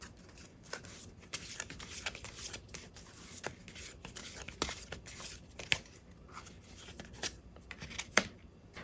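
Tarot cards are shuffled and handled close up. Soft riffles, slides and light taps recur at an irregular pace over a quiet room, with no one speaking.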